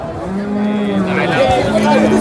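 A cow at a cattle market gives one long, loud, close moo that rises and wavers before tailing off, with a faint murmur of market noise beneath.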